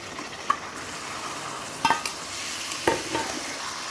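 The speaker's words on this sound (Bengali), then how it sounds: "মশলাটা কষানো হয়ে গেছে, এবার আমি চিকেনটা দিয়ে দেব।" Chicken goes into a pan of fried ginger, garlic and spice paste, a steady sizzle of frying running throughout with several soft scrapes and clinks of stirring, close and fairly quiet, with no talking.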